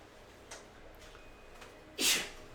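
A single sharp sneeze bursts out near the end after a couple of faint ticks and small noises in an otherwise quiet room, fairly close and brief.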